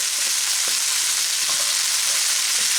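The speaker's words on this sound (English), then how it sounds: "Now I'm going to kind of mix the onions and the potatoes together." Onions and potatoes for corned beef hash fry in a pan, a steady loud sizzle with soft stirring scrapes, no talking.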